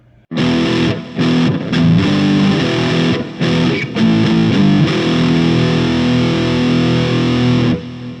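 Heavily distorted Donner 152 electric guitar chords, split coil pickup selector in positions 5 and 4, ring out loud and sustained, with a few brief breaks between strums.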